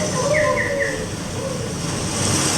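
Storm seabirds calling over a heaving sea in a live radio play of A Christmas Carol, a few short chirping cries in quick succession over a steady wash of wind-like noise.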